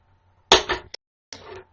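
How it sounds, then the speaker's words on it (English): A deck of cards is shuffled for a tarot reading in two short, crisp riffling bursts with a brief tap between them, close and clear with no talking. "I'm going to do 3 shuffles."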